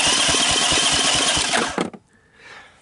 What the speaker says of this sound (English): Yeah, the starter goes around.